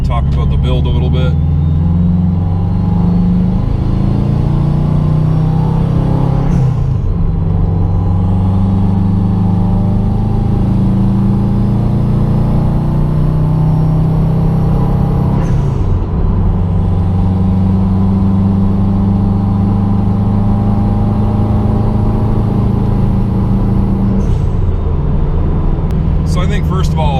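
A car with a modified 2013 Subaru STI engine block cruises down the highway. A steady loud engine drone and road rumble run throughout, shifting briefly three times, while someone talks over it.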